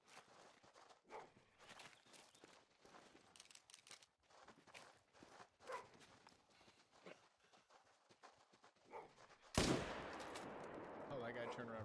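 A single loud rifle shot from the hunting game theHunter: Call of the Wild cracks near the end after quiet rustling footsteps, then its echo rings out and decays.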